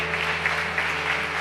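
Congregation applauding in church, a dense continuous wash of many hands clapping together at a steady, fairly loud level.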